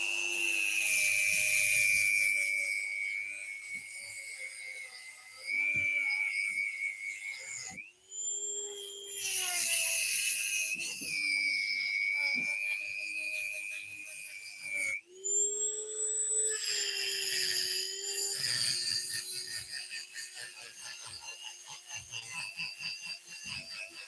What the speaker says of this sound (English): when you're cutting the bolts off, you do not have to cut all the way through